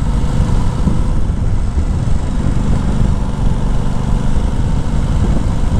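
A 2021 Aprilia Tuono 660 motorcycle engine runs steadily, a loud, continuous low rumble that holds even throughout, likely heard while riding, with wind noise mixed in.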